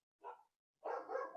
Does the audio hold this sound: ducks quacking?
no